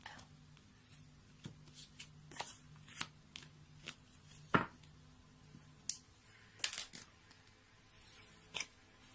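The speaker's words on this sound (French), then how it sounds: "on va couper le jeu" A deck of tarot cards being cut and handled, with soft scattered card snaps and shuffling taps spread over several seconds, faint and close, alongside a quiet voice.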